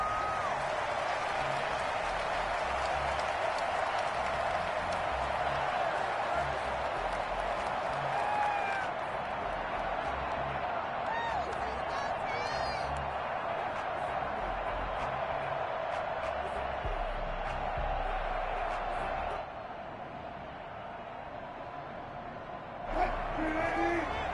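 A stadium crowd in the Madden football video game, London Black Knights against the Seattle Seahawks, keeps up a steady roar and scattered applause while a commentator talks over it.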